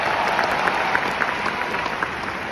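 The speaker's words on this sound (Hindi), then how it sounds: "एक बार जोरदार तालियां।" A large audience at a Delhi motivational business event claps steadily, a thick continuous patter of many hands heard alone at a moderate distance.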